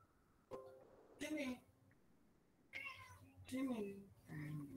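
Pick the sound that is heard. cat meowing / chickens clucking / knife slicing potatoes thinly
cat meowing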